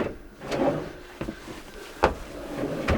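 Kitchen drawers in a 2022 HRZ Trend Mercedes Sprinter camper van sliding and knocking, with several sharp wooden clunks and rattles spread over a few seconds, close by in a small interior.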